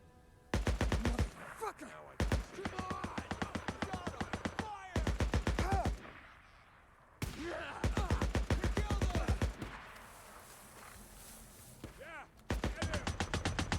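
Bursts of machine gun fire in Days Gone rattle out in rapid, loud volleys of several seconds each, separated by brief quieter gaps.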